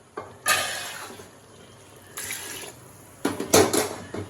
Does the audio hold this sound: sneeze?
no